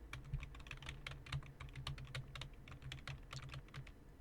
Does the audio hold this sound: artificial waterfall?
no